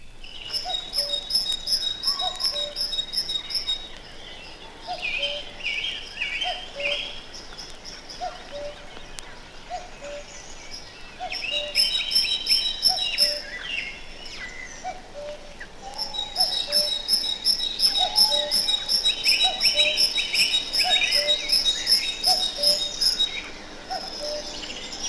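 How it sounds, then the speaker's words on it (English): Back garden birds sing in repeated bright phrases, including the chiming notes of a great tit, with bursts of song separated by short pauses over a quiet background. "in summer the cuckoo may add his voice to that of the chiming great tit"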